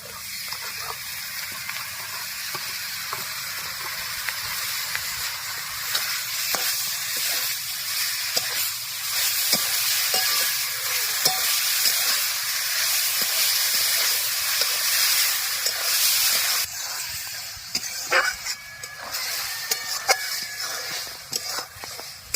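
Grated coconut and jaggery cook in a wok over a fire, giving a loud continuous hissing sizzle with scattered crackles and scraping stirs throughout, no talk.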